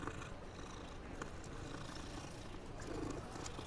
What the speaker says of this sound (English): Sure is an awful lot of cats in this game.